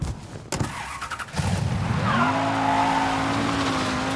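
Car in the video game Mafia III pulling away, a few sharp knocks then the engine revving up and holding a steady rising drone with tire squeal, close and loud.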